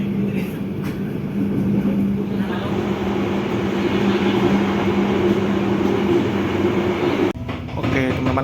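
Inside a Sancaka passenger train on the Surabaya–Yogyakarta line, a loud, steady rumble and roar of the carriage in motion carries on without a break, with faint rail clatter. Near the end a brief dip and shift in the noise breaks the drone.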